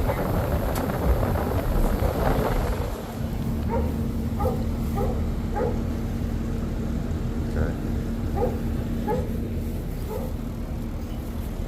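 A big Rottweiler barks in a quick series of separate woofs, moderately close, and a steady mechanical hum from an air-conditioning unit runs underneath.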